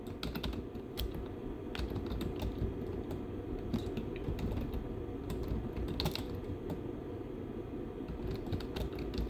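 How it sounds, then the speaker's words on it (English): Fingers tap a computer keyboard in quick irregular bursts of clicks, close but fairly quiet, over a constant low background hum with no talking. "So I'm just typing in"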